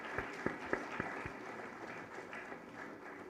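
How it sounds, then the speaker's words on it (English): Faint, sparse clapping for sponsors at a women's event at ICFAI, a few distinct claps early on fading into a low, distant room murmur. "Give a huge round of applause for our sponsors"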